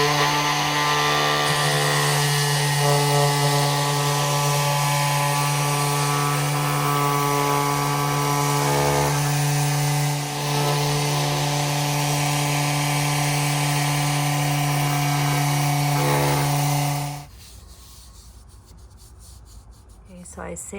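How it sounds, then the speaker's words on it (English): A Ryobi power sander runs across a wooden board to smooth filled cracks. Its loud, steady motor whine and abrasive hiss carry on unbroken for about seventeen seconds, then cut off, leaving quiet room sound. "we're gonna take this Ryobi sander, and you're gonna place it flat along the board"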